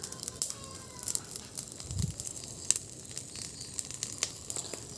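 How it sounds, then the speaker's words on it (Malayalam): A large fire burns fiercely outdoors, giving off scattered sharp crackles and pops over a low, soft rushing bed, fairly quiet and close, with no voices. "ഭയങ്കരമായിട്ട് ആളി കത്തുന്നു."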